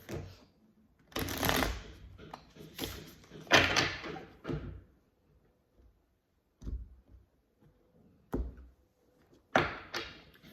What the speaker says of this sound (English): Let's keep shuffling.